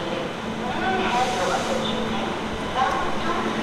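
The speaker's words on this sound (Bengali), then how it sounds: "এদিক থেকে ট্রেন আসছে আবার।" A train pulls into a platform at Howrah station, a steady low rumble and rolling rail noise throughout, moderately loud amid station bustle with voices in the background.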